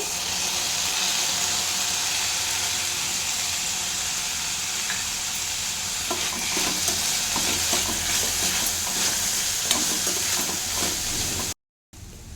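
Chopped tomato fries in a pan for a simple sauce-free pasta, giving a steady close sizzle with stirring scrapes. Clattery stirring builds near the end before a brief cut to silence.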